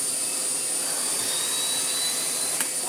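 Miele Blizzard CX1 vacuum cleaner motor running: a loud, steady whine and roar, near and continuous, with a high tone held throughout and a brief click near the end.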